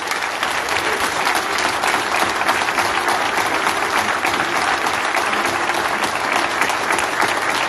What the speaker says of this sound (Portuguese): peço uma grande salva de palmas para a Sra. Ministra Ana Brunhosa e para o Pedro Nuno Santos